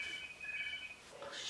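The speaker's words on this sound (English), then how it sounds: "I bet you can hear that phone ringing." A telephone rings faintly in the background, a thin steady electronic tone sounding for about a second and then stopping, quiet and distant in the room.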